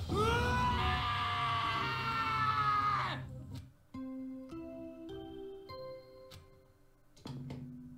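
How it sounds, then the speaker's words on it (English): A loud, sustained scream rings out in the Danganronpa: Trigger Happy Havoc video game for about three seconds, cutting off abruptly into a sparse pattern of sharp tonal stingers and ticking sounds. "Hey, I heard screaming."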